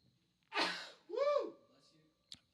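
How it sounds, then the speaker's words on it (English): A loud sneeze: a sharp indrawn gasp, then the explosive burst with a trailing voiced tail, followed by a brief faint sniff, close to the microphone indoors. "I think I'm going to sneeze. And I sneeze really loud"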